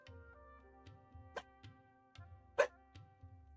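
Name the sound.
dog barking in a video game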